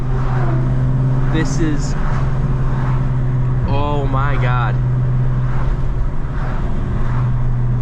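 A 1994 Volkswagen Corrado SLC VR6 engine drones steadily from inside the car while driving, a constant low growl heard close, with someone talking excitedly over it.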